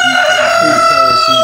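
Goliath chickens cluck in short bursts close by while a rooster's crow rings out, busy and loud, on a poultry farm in Chad.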